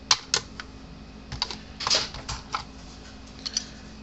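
A transformer clamp pried off a 36-year-old Gallagher BEV3/M800 fence energizer, heard as a string of small dry clicks and snaps up close, a brief scraping cluster in the middle, over a steady low hum.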